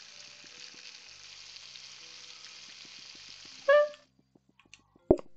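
Fish sizzles on a hob in the PlateUp cooking game as a faint, steady frying hiss that stops abruptly, followed by a few short clicks and pops.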